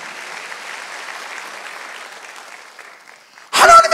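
A church congregation at a Wednesday worship service breaks into steady, full applause that carries for several seconds, thinning out before a louder voice cuts in at the end.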